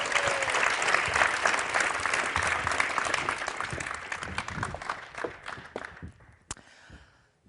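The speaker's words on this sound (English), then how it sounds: "Another big applause for Jennifer." A science-communication contest audience in Geneva breaks into loud, dense applause that holds steady, then thins into scattered claps and stops near the end.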